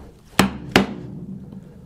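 Chisel being struck while chopping out dovetail tails in wood, two sharp close mallet blows about a third of a second apart, then a faint third tap as the ringing fades.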